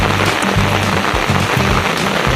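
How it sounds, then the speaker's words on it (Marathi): Rain falls steadily during a monsoon crab-net outing near the sea at Korlai, a dense continuous hiss of drops spattering on surfaces, close and loud throughout, with low rumbling underneath. "थोडा पाऊस आलेला आहे"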